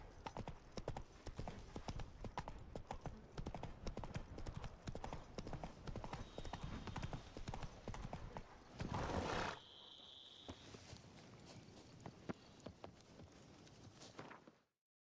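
Roach, a horse in The Witcher 3, clip-clops along in a steady rapid hoof rhythm, then a short burst of noise cuts in and the hoofbeats give way to a quiet background with faint sounds.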